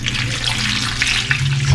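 Water pours steadily from a tap or container into a vessel, a close, continuous splashing rush with no voices over it.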